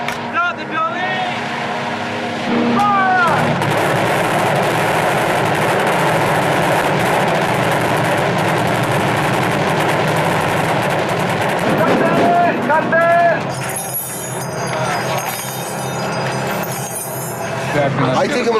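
Weapons firing on a Transformers film set as about fifty stunt performers scatter and vehicles tumble on cables: loud, dense bursts of gunfire and crashing over steady engine and crowd rumble, with voices heard through the noise.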